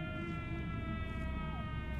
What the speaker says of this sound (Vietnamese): Tiếng còi xe của cái xe cảnh sát à?